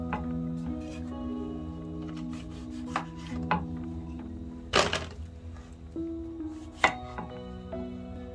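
Knife chopping vegetables for kachumbari on a cutting board, a series of irregular knocks with a few louder thunks, close and clear, over a steady low kitchen hum, with no talking.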